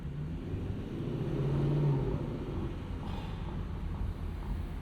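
A Lexus LC 500 convertible with a V8 and 10-speed gearbox cruising at low speed: a smooth, steady low engine rumble with soft wind and road noise, no voices.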